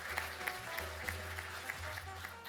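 A seated audience at an awards event claps for a speaker, a moderate patter of many hands with light crowd murmur, heard at a distance.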